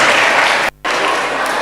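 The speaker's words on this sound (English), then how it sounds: "Let's give them a round of applause." An audience at a college presentation claps in dense, steady applause that cuts out for a split second and then continues.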